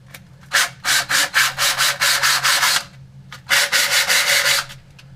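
Sandpaper of 100 grit scrubbing a freezer part in quick, even back-and-forth strokes, close and loud, in two bursts separated by a short pause.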